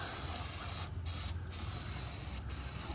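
Loud, close hiss of an aerosol spray can, sprayed in bursts with three brief pauses between them.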